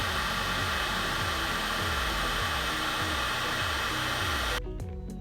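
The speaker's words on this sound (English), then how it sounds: "I'll use a heat gun to just shrink this up and the tape will just kind of burn off" A heat gun blows a loud, steady, roaring hiss while shrinking the tape-wrapped end of a climbing rope, continuous and close until it eases off near the end.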